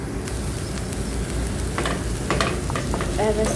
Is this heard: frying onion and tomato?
yes